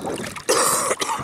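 A person coughs close by in two harsh, rough bursts about half a second apart, with faint background noise before them.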